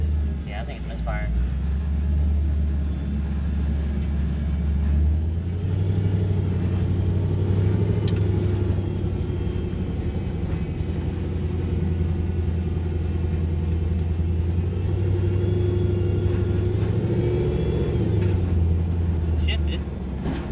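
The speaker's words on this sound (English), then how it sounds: "Yeah, I think it's misfiring." A Coyote-swapped Ford F100's engine rumbles continuously with a low, uneven drone, heard from inside the truck as people talk over it.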